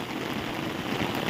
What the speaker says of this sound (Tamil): மழையை மட்டும் பாருங்க, சரியான மழை